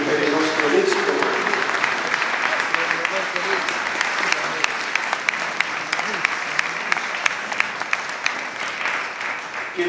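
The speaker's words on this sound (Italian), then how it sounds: "vi accogliamo anche con un grande applauso insieme al nostro vescovo" Steady, dense applause from an audience at a diocesan gathering of prayer groups welcoming guests alongside their bishop, sustained for the full stretch with sharp individual claps standing out in the wash.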